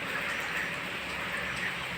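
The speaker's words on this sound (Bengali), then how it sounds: "বৃষ্টি পড়ছে।" Morning rain falls steadily outside a house in a Bangladeshi village, an even, faint patter that stays constant throughout without any talk.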